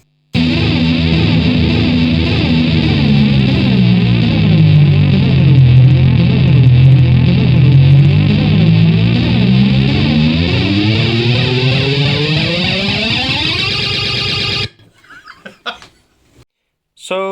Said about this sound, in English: when you're in the vinyl looping mode, you can also change the delay time, which sounds funky